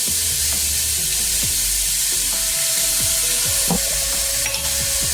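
Meatballs frying in a pan, a loud continuous hiss and crackle close up, with a few soft knocks of a utensil and no talking.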